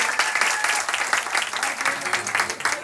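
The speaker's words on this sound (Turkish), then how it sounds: "Doğum günü sahibini alkışlayalım ve hoş geldiniz" A quiz night audience claps for a birthday guest, dense steady applause filling the room from start to finish with no pauses.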